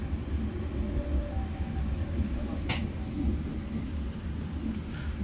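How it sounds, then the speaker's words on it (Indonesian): The Kamandaka train from Purwokerto to Semarang Tawang passes close by as a continuous low rumble heard from aboard another train, with a brief sharp squeal of metal in the middle. "Kereta api Kamandaka dari Purwokerto tujuan akhir Semarang Tawang."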